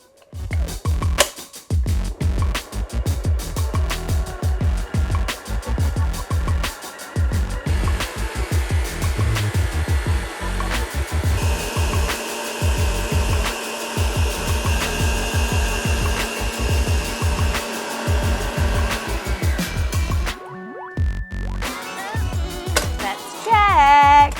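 Electric mixer whisking egg whites to stiff peaks for a cheese soufflé, a loud steady motor whine with rattling beaters that rises from slow to fast speed and runs almost continuously.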